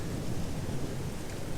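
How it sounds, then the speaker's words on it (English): Thunderstorm with steady broadband rain and a low continuous thunder rumble, heard alone at a moderate, even level throughout. "this is definitely a nice storm."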